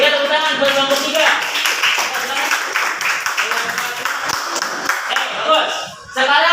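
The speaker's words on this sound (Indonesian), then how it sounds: "tepuk tangan buat kelompok 3" An audience in a classroom applauds group 3, a busy spread of claps running steadily the whole way, fairly close and loud, with voices mixed in.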